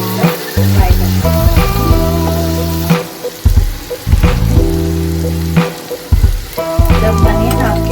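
Ground onion paste frying in a pan, a loud bubbling sizzle that swells and drops several times as it is stirred and scraped, with no talking.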